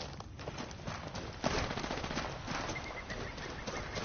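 Rapid gunfire in a shooter video game crackles in dense, continuous bursts, with a sharper, louder shot standing out near the middle, all fairly close and steady without a break.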